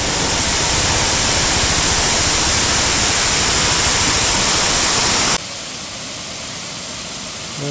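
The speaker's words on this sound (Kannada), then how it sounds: "ನೋಡಿ ವಾಟರ್ ಫಾಲ್ಸ್." A monsoon waterfall in Talakaveri Reserve Forest roars as loud, dense rushing water for about five seconds, then drops abruptly to a softer, more distant wash.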